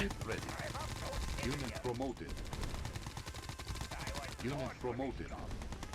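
Units in the strategy game Yuri's Revenge fire rapid bursts of gunfire, dense and continuous, mixed with game effects and voices in the battle.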